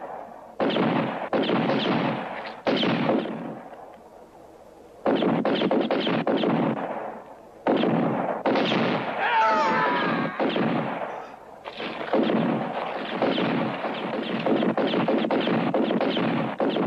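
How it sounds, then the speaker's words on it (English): Gunfire from a western film shootout: dense volleys of rifle and pistol shots crack in loud bursts, separated by brief pauses, with shouting voices mixed in. "Hold your fire, men!"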